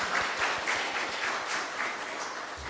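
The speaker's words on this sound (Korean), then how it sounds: "박수로 환영하겠습니다." Church congregation applauding during a Sunday worship service, a steady wash of many hands clapping at moderate loudness throughout, with no talk over it.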